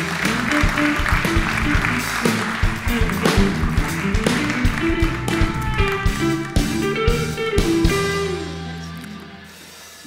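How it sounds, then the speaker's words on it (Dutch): Applause greets a speaker at a late-night talk event on mobility, a busy patter of many hands heard beneath loud music with a pulsing beat that fades out near the end. "Dames en heren, een hartelijk applaus voor Marja van String"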